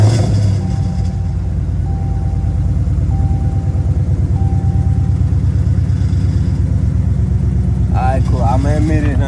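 A Dodge Charger R/T with catless long tube headers idles with a deep, loud, rhythmic rumble, a steady burbling exhaust throughout with a brief rev flare near the end.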